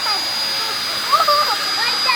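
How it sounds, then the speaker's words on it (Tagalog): Vacuum cleaner running indoors in a home, a steady loud whooshing drone throughout, with a voice speaking over it. "Vacuum lang."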